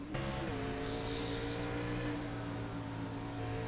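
Race cars in a Bristol oval racing video game hold a steady, droning engine note behind the pace car before the restart, a dense layered whine of several engines at moderate distance with no talk.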